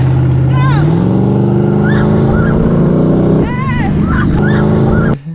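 A T-bucket hot rod engine held at full throttle, a loud, continuous close roar with rising pitch sweeps, a brief dip near the end, and voices calling out over it.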